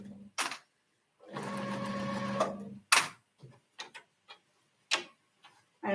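A sewing machine stitches a seam in a short, steady burst of whirring lasting about a second and a half, framed by scattered clicks and taps of handling, close and fairly quiet.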